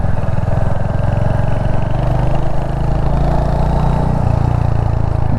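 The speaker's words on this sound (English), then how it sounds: "I'm a big fan of this exhaust note" A 2022 Royal Enfield Hunter 350 motorcycle with a J-platform single-cylinder engine and 5-speed gearbox runs steadily, its exhaust giving a loud, close, continuous thumping drone with a slight shift in pitch partway through, with no voices.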